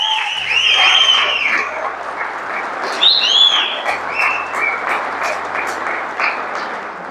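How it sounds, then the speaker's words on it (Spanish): Church congregation applauding during a sermon, loud sustained clapping mixed with whistles and cheers, a low steady hum running underneath. "Le damos un fuerte aplauso a Él."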